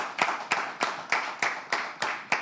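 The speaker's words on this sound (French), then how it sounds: "On applaudit, on l'acclame ici," A live audience claps in regular, evenly spaced bursts for a candidate at a presented event. About eight sharp, fairly close claps land roughly every third of a second, with no voices over them.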